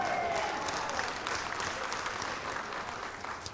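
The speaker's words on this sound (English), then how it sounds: "give Ethel a round of applause." A church congregation applauds during a sermon on studying prophecy, a dense, continuous wash of clapping that stays loud and even throughout before easing slightly toward the end.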